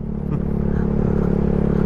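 A Yamaha Mio Sporty scooter rides along a road in Kalumala Heights after storms, its engine a close, steady, loud drone with a slight pulsing.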